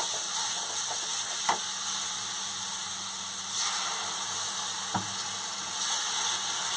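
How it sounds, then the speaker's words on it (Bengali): Fish and spices sizzling as they are stir-fried in a pan for kokila fish jhal, a steady close hiss broken by a few sharp scraping stirs. "দিয়ে আর একটু কষিয়ে নেবো আমি।"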